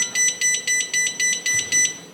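A Red Arc volt gauge sounds a fault warning: a loud, steady run of about eight short, evenly spaced electronic beeps, close and alone.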